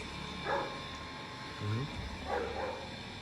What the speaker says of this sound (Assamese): কুকুৰেও কিবা ক'ব খুজিছে